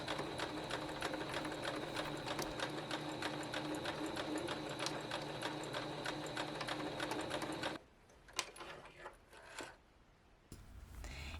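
A sewing machine runs steadily, close and loud, stitching back and forth over elastic on pyjama boxers, then stops abruptly, leaving a few small clicks and handling noises before a short restart.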